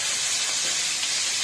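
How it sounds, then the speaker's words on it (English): Beef fillet sears in a very hot oiled pan, giving a steady, close, bright sizzle and hiss with no voices. "Pan very hot, really hot. You're not cooking this, you're just searing it."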